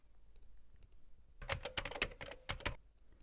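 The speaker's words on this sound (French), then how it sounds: "des sons de clavier" Computer keyboard typing sound effect: a short burst of rapid key clicks and taps arrives after a quiet start, clustered in quick bursts before trailing off.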